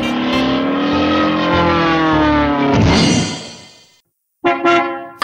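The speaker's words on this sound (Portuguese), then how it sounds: "Todos embarcando o ônibus." A cartoon-style bus engine revs up and pulls away, a loud rising motor whine that swells and then cuts off, followed by a brief burst of engine noise.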